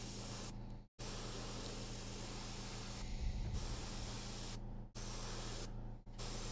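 Airbrush spraying gold paint onto miniature armor, a close continuous hiss broken by a few brief pauses, with a faint voice in the background.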